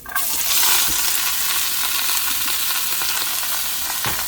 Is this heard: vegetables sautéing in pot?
yes